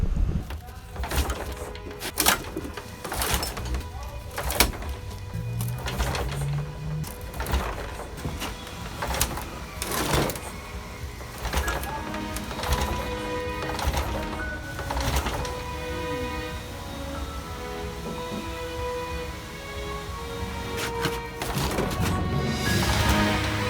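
A VW engine fitted with a pull start is yanked by hand again and again, giving sharp, repeated rattling pull strokes with mechanical clanks between them and no catch. Someone is heard speaking at times.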